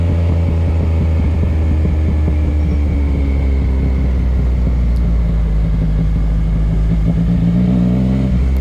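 A Yamaha MT-09 motorcycle descends a winding mountain road near Doi Suthep, Chiang Mai, its engine braking in a loud steady drone with shifting pitch over wind rush, close to the rider, no talk.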